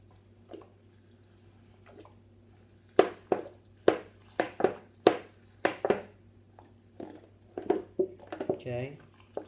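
Alcohol poured over rose petals for homemade perfume, giving short wet splashes and drips mixed with light clinks of glass and utensils, close and moderately loud, spread in bursts through the second half.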